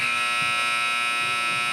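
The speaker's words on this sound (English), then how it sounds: "when the officials hit the buzzer" A loud, steady electronic buzzer sounds at an elementary-school basketball game, holding one continuous harsh tone for nearly two seconds before cutting off abruptly.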